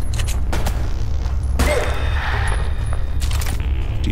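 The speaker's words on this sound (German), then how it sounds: "Noch eine Granate." A grenade blows up in the polygon-style shooter ADACA, a loud burst amid the clatter of game gunfire over a steady low rumble, with no clear speech.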